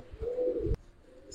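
Pigeons of an old green breed, a jabra pair, coo at close range in a steady low warble, with a sharp click partway through and faint rustling afterward.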